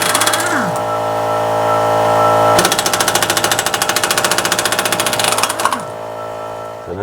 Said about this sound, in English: And you can see the compressor's already kicked on.